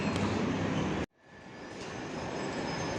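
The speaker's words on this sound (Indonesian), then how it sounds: "Ini dia LRT-nya nih" Continuous rumble and rush of a light rail train nearby at Mo Chit station in Bangkok, cut briefly by a sudden drop before the steady roar of the moving train builds again.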